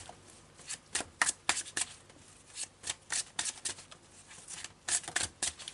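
Tarot cards are shuffled by hand, close and fairly crisp, in a quick run of papery riffles and slaps with short pauses between bursts, with no talking.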